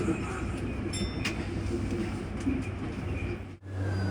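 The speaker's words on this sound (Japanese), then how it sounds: "乗ってきた電車をお見送り" Loud steady rumble and rolling hum of a five-car 6020 series commuter train at Todoroki Station, Tokyo, with faint metallic clinks and station ambience throughout.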